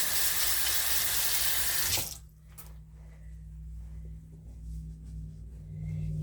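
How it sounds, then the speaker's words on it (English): A kitchen tap runs hard for two seconds, a loud steady rush of water, then shuts off, leaving a low hum and faint wet rubbing of hands being washed close by. "I wash my hands"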